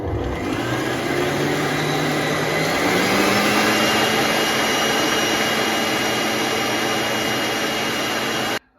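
An electric mixer whips egg whites to stiff peaks in a bowl, a loud steady whirring drone with a slowly shifting motor pitch, cutting off at the end, no talking.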